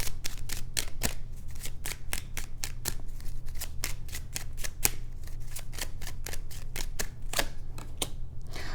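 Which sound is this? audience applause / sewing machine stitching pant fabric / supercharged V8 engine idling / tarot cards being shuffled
tarot cards being shuffled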